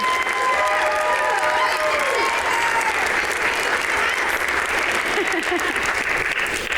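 Audience applause fills an awards ceremony hall, a steady, loud wash of clapping from a large crowd that runs the whole time, with a few brief cheers and a voice faintly audible underneath.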